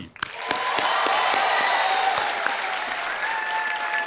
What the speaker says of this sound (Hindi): आपकी तालियों की गूंज के बीच